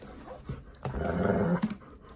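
A dog growls angrily at smaller dogs, a close, rumbling growl swelling in the middle between short sharp sounds, with no talking.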